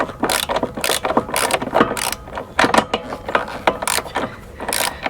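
A ratchet wrench clicks in quick, repeated bursts while tightening the tensioner bolt on a Toro Time Master mower's idler pulley, close and fairly loud with short pauses between strokes.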